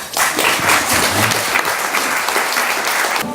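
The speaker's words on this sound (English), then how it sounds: "Please join me in a great round of applause, well-deserved, for Jean Baylor" An audience at a community board gathering breaks into steady, dense applause, loud and sustained throughout with no talking over it.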